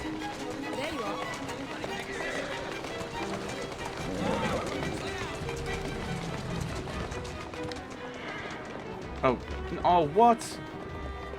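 A horse-drawn carriage in Assassin's Creed Syndicate rolls along with steady hoof clip-clop and wheel rumble, running continuously under game ambience, with a person talking briefly near the end.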